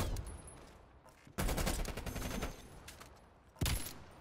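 FAMAS rifle fire in Call of Duty: Black Ops Cold War, two loud rapid bursts of automatic shots with a sustained rattling stretch between them, close and dominant over the game's ambient sound.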